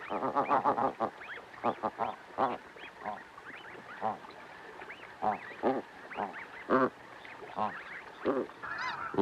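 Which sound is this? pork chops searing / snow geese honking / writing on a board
snow geese honking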